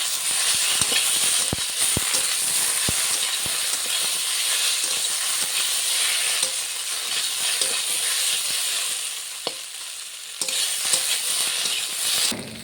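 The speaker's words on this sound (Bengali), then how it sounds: "ভালো করে আলু করলার সঙ্গে মশলাটা কষাবো।" Steady sizzling hiss of potato and bitter gourd sautéing with spices in a pan, with scattered scraping and stirring clicks throughout, fairly close and continuous.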